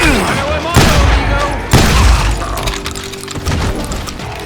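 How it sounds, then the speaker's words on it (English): Gunfire in a town street in Call of Juarez: Gunslinger, a few heavy booming shots roughly a second apart with rattling follow-up, close and loud, with a voice shouting over part of it. "They're shooting in the street!"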